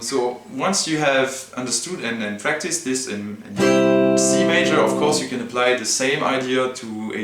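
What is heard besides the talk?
No distinct noise like a dog, phone or traffic.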